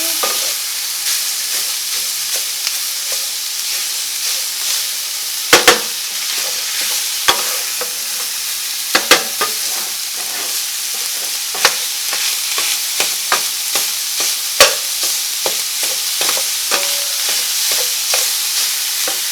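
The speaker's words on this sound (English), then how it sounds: "Kind of stir it around a little bit, make sure everything gets browned up nicely." Zuppa Toscana soup ingredients browning in a pot, with continuous loud sizzling and frying hiss broken by repeated scraping stirs and sharp clicks of a utensil against the pot.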